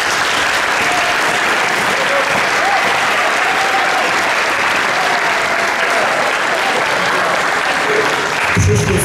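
Audience applause at a basketball club's tenth-anniversary ceremony held at Rydzyna Castle, a dense, steady clapping that fills the whole stretch and stops abruptly at the end.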